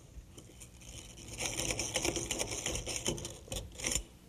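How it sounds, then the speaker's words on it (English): Drywall screws driven into wood while a bathroom door is installed, a steady mechanical rattling whir from a nearby driver running in uneven bursts before it stops, with no talking. "Put it in place and hold it there with drywall screws."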